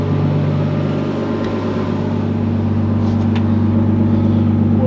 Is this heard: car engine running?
yes